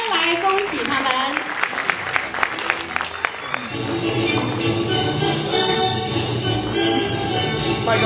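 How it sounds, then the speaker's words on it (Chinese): Award winners at a news-reporting prize ceremony draw warm applause from the audience: a dense, sustained clatter of many hands that swells after an announcer's voice opens the moment, then carries on loud and even. "我们请得奖者上台，请各位用热烈的掌声来恭喜他们"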